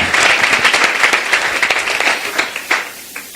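A church congregation bursts into loud, dense applause that holds steady, then thins into scattered claps as it fades out.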